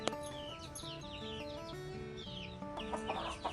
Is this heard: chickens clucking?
yes